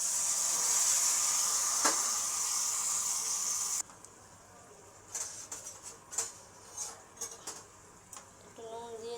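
Spices (turmeric and chili paste) and tomato fry in a pan for a light rohu fish curry, giving a steady, loud sizzling hiss for about four seconds, then a quieter stretch with scattered clinks and stirring sounds.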